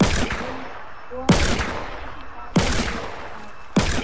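Gunfire in a Fortnite match, including a revolver: four sharp, loud shots spaced about a second and a quarter apart, each with a short decaying tail over a busy game background.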